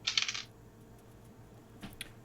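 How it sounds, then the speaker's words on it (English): Three dice tumbling together on a table during a tabletop role-playing game, a quick bright rattle lasting about half a second, followed by quiet and a couple of faint clicks. "I would love for you to roll me 3 separate dice."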